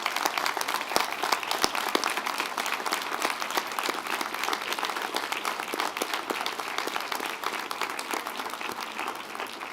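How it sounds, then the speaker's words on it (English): A standing audience at a college commencement ceremony applauds, a dense, continuous roar of many hands clapping at steady loudness with no voices on top. "Please rise, and let's give these folks a round of applause."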